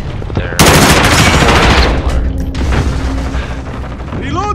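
A missile launch in the video game Call of Duty: Modern Warfare bursts in as a loud, sustained roar with booming, gunfire-like crackle that holds for several seconds and then tapers off, with a faint voice near the end.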